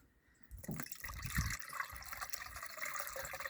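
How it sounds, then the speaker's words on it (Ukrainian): Water splashes and trickles gently into a sprayer tank to rinse in a treatment for apricot trees, a soft continuous pour with light gurgling, close and fairly quiet. "Просто поливаємо водою легенько."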